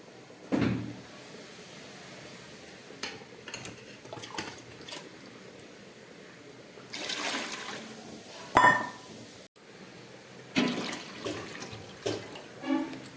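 Warm water poured over Gobindobhog rice and vegetables for pulao, several short pouring and splashing bursts separated by quiet pauses, close and moderately loud.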